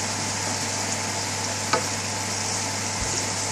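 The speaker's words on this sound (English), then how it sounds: "mix the spinach together and mix all the ingredients all in nice and gently. Give the ingredients a good stirring" Fresh spinach being stirred with other ingredients in a pan over a slow gas flame, a constant soft hiss with one faint scrape of the spoon, close and steady, no voices.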